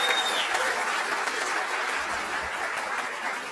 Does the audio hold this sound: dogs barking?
no